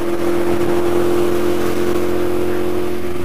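A five-speed sports motorcycle with a 12,000 RPM redline revving, a loud steady engine drone held close and constant for a few seconds.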